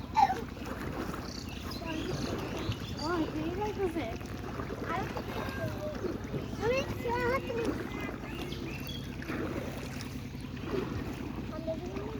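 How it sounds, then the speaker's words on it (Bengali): A small boat is rowed across a village wetland, with soft water sloshing and paddle movement heard faintly beneath people talking nearby. "আমরা যে নৌকা চালাইতেছি"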